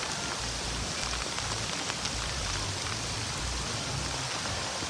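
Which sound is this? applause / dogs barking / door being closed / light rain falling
light rain falling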